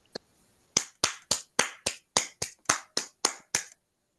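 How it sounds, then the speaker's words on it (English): A small online audience applauding from home for a poet at a poetry collective evening, heard as about eleven sharp, separate claps in a quick, even rhythm, close and fairly quiet, with no talk. "Could we all just unmute and give Lucy a round of applause?"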